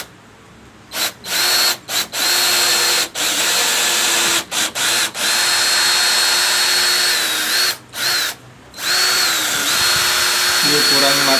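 A Stanley 18V cordless hammer drill whirs in repeated bursts, starting and stopping several times with short pauses, loud and close, then running in longer stretches.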